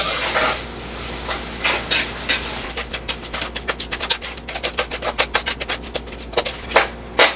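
Onions for Arabic-style mutton mandi stir-fry over very low heat, with a soft sizzle first and then a run of quick scraping stirs against the pan, close and fairly loud.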